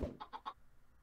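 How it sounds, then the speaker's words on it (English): Three short clucks from Minecraft chickens in quick succession, clear and close, following a brief low thump at the start, with no talk over them. "Those are two normal chickens."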